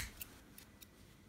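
Scissors snipping yarn while making a knitted pompom for baby booties, three quiet, sharp cuts spaced apart over a soft background hush, close and alone with no talking.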